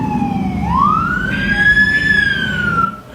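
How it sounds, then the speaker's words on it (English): A fire truck siren rises and sweeps in a loud, steady wail with a deep rumbling engine underneath as the truck pulls up to a scene on 22nd Avenue, then cuts off abruptly near the end. "And here comes the fire truck arriving to the scene."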